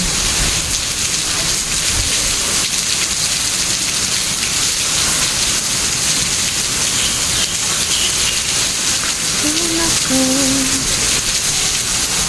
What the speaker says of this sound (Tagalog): Ulan-ulan, tila ka na.